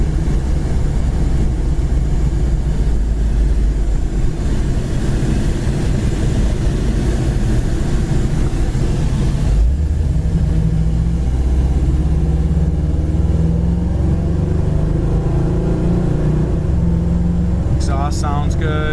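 1976 Chevy El Camino V8 idling with a steady low exhaust rumble close by, continuous throughout, with a brief rise in engine note midway and a short high chirp near the end.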